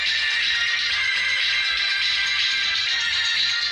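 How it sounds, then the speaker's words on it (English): Music plays steadily through the small built-in speaker of a smart watch, with a thin, bright tone and a regular beat pulsing throughout, fairly loud and close with no talking. "The music is fully coming from the watch"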